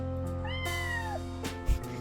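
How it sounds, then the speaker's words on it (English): A cartoonish cat meow rises and bends downward, played over steady background music in the video game Later Daters, followed by a brief soft thump. "Meow"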